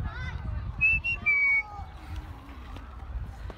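A few short, high whistle tones sound outdoors at the Horniman Museum in London over low rumbling background noise and distant chatter, then fade into the ambience.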